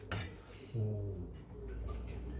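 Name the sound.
stirring pasta in a pot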